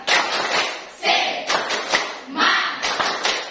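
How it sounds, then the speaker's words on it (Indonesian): Group of students clapping a rhythmic cheer pattern in a classroom lesson, loud bursts in a repeating beat across the clip with voices chanting along. "Tepuk semangat."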